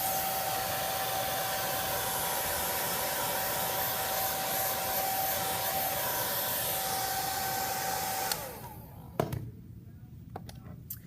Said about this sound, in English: taking a break from my hairdryer